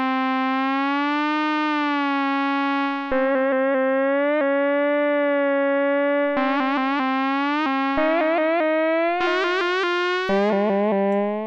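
An FM Zone boutique FM synthesizer with sampler plays a sustained buzzy, harmonic-rich tone whose timbre shifts while crossfading between two envelopes, broken by repeated short retriggered note bursts, loud and alone.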